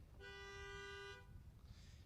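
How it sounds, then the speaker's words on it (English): Car horns honk during a drive-in high school graduation ceremony, one sustained toot lasting about a second, fairly distant and alone, followed by quiet outdoor background. "Please honk when your name is read."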